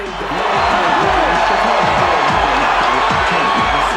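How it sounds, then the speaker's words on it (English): A large boxing arena crowd surges to its feet, a loud continuous roar of cheering, shouts and whoops filling the space with no break. "this crowd rises to its feet and looks for the first round knockout"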